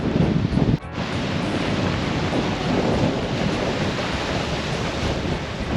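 Stormy wind and driving rain at Tasman Lake, New Zealand, roar as a dense, steady wall of noise with gusts buffeting the microphone, loud and continuous apart from a brief dip near the start.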